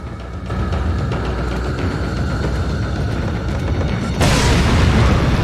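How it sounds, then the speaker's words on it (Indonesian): Explosions in the game Resident Evil 4 roar as a loud, continuous rumble, then swell further with a sudden, harsher burst near the end. "Meledak semua orang"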